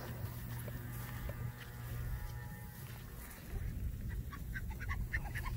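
Ducks quacking and honking near a person walking outdoors by high water, a busy mix of calls at moderate distance over steady background noise.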